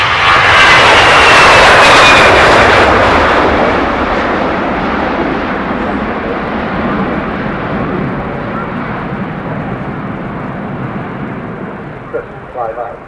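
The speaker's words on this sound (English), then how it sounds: "Deceptively slow acceleration. It's a very, very big aircraft." Very large aircraft accelerating at the Farnborough Air Show, a loud roaring engine rush that peaks early then slowly fades into the distance, with a voice commentating over it.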